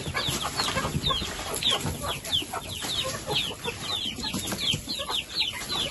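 Hens clucking steadily in a chicken coop, a dense chorus of short repeated calls from several birds close by, with some rustling and wing movement underneath and no talking.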